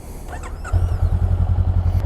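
A 2021 Honda Rebel 500 motorcycle engine cranks and catches, then settles into a close, steady low idle thrum with a rapid pulsing beat.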